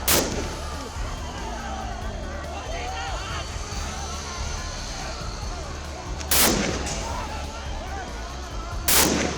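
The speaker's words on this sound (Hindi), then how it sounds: "पुलिस ने पत्थरबाजी कर रहे नौजवानों पर गोली चला दी" Sharp, loud bangs of police gunfire at stone-throwing protesters in Nepal crack out at the start and twice later, over a noisy background of distant crowd commotion.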